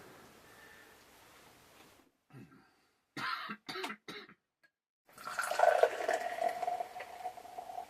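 A few brief knocks and clinks, then Elysian Space Dust IPA pours quickly with a rushing, fizzing hiss that continues to the end.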